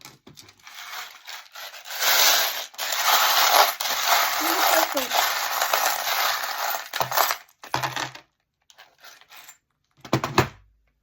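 Divination charms cast onto a surface for a tarot-style reading, giving a dense rustling, clinking spill lasting several seconds, then a few scattered small clicks and a last brief rattle, up close and without talk.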